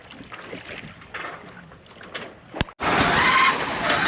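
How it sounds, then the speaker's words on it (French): Steady wind rushes and water washes aboard a sailboat under way at about four knots on an open-sea voyage past Gibraltar, starting softer, then swelling abruptly into loud, continuous buffeting wind noise on the microphone. "Le vent a monté légèrement."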